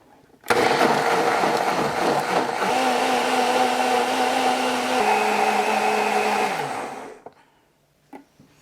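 Blender grinding chopped pandan leaves with water, a loud steady whirring motor that runs for about six seconds, shifts pitch partway through, then winds down to silence, with a faint knock afterward.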